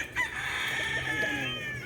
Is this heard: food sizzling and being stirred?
no